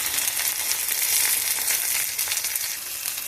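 Chicken parmesan cutlets sizzling loudly in a hot pan as they are flipped, a dense, steady crackle of frying oil heard up close with no talking.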